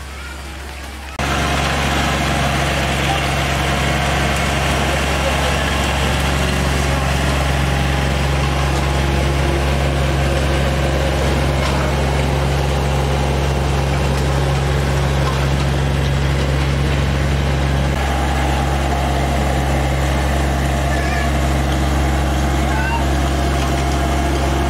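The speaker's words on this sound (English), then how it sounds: "The tractor." An orange tractor's engine runs steadily throughout, a loud continuous low rumble with constant droning tones and broadband noise, nearby and unchanging, with no talking over it.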